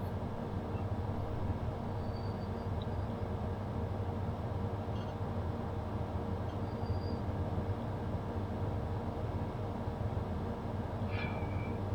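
A Class 395 train runs on the Medway Valley Line in Train Simulator 2018, giving a steady low rumble and hum with faint high whines drifting in and out.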